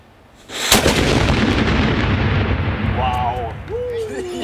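A ceremonial cannon fires at the Castle of Good Hope in Cape Town during Battle of Blaauwberg festivities, one loud close boom followed by a long rumbling decay, with voices and cheering rising toward the end.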